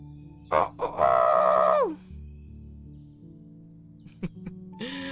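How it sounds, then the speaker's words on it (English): A rooster gives one loud, close cock-a-doodle-doo crow, preceded by short clucks, then a few quieter clucks and calls follow after a pause. "It was at this sad moment they heard a sound that made their hearts freeze with fright. They heard Peter crow."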